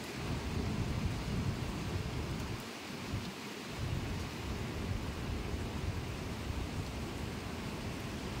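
Strong typhoon wind during Typhoon Uwan, a loud continuous roar with rain-like rushing noise, gusting steadily with a brief dip before building again, close and enveloping, with no talking.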